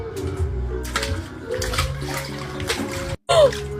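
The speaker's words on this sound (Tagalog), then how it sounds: "Ang sarap naman dito maligo sa swimming pool ni Angel" Water sloshes and splashes in a swimming pool, a steady close wash of movement with a brief gap near the end followed by a louder splash.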